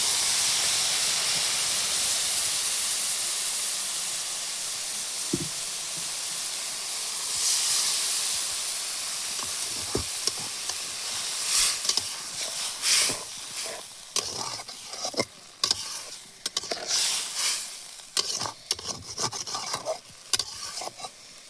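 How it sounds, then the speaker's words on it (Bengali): Sour water hits a hot pan and sets off a loud, steady sizzling hiss with steam that gradually settles, followed by close clattering scrapes of stirring in the pan. "টক জল দিয়ে দেবো একটু"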